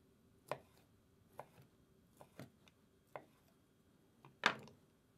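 A knife cuts through dry-aged beef on a cutting board, giving a handful of separate sharp chops spaced irregularly a second or so apart, close and quiet in an otherwise silent kitchen, with the last chop the loudest.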